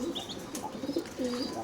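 Racing pigeons of a prized breeding line cooing close by, a few soft throaty coos with faint chirps and some wing rustle over a steady background hum.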